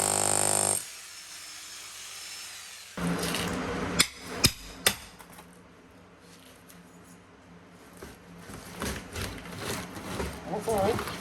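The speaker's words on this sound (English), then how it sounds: "We'll chip around the drain with the hammer" Three sharp hammer strikes ring out close by, followed by quieter scraping and chipping of a thick mortar bed around a 1960s shower drain during demolition, with people talking intermittently.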